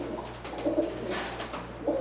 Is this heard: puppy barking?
no